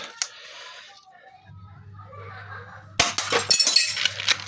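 Glass shatters loudly after a moment of low engine-like droning and a short sharp tap, with a burst of crashing shards and tinkling debris close by.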